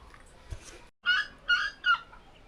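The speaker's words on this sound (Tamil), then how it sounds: "அழகான பறவைகள் சத்தம்." Birds call on a mountain about 6000 feet up in the Nilgiris. After a faint, quiet stretch comes a brief hush, then three clear, separate calls in quick succession, close and distinct.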